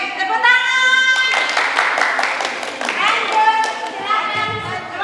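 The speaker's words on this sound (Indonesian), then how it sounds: "Oke, tepuk tangan." Audience applause at a teachers' workshop for a school teacher-leader program in Bone Bolango, a room of hands clapping steadily for several seconds, with voices and children's chatter mixed in.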